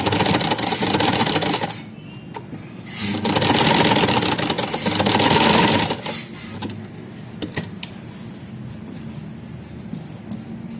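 A sewing machine stitches a side pocket onto a kameez: two loud, fast whirring bursts, then quieter intermittent clicks and handling noises as the cloth is adjusted, heard up close.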